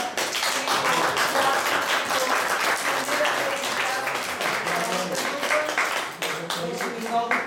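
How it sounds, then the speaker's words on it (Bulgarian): An audience claps for children at a first-day-of-school ceremony, a lively, continuous burst of many hands with sharp individual claps standing out, fairly close and steady throughout. "Аплодисменти още веднъж за децата"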